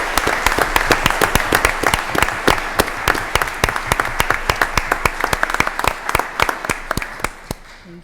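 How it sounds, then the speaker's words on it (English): An audience at a Board of Education meeting gives loud, steady applause for two school bus drivers, with dense overlapping claps that fade toward the end. "a round of applause for these two individuals"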